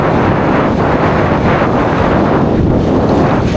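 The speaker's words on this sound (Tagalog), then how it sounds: "Lakas ng hangin." Strong wind buffets the microphone on a light rock fishing outing, a loud, continuous low roar with no voices.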